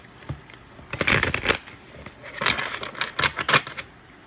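A deck of cards is riffle-shuffled up close, two quick fluttering bursts of snapping cards separated by a short pause.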